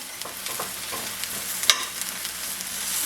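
Shallots frying in a pan over medium-high heat, a steady soft sizzle with light scraping and stirring clicks throughout, close and moderately quiet, one sharper clatter partway through.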